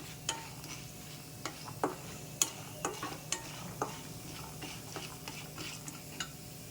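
Soft crackling and sporadic sharp ticks as chutney ingredients fry in oil, with occasional clinks of a utensil against the pan, moderately close and fairly quiet.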